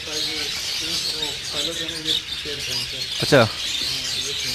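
King budgies in a breeding setup chirp in quick, repeated warbling bursts against a steady bright aviary hiss, while someone talks over them in a conversational tone.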